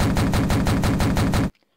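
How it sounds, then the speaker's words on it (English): Rapid automatic gunfire in a video game, a loud continuous burst of evenly spaced shots lasting about a second and a half before cutting off abruptly to silence. "I think I'm just gonna shoot the lizard guy"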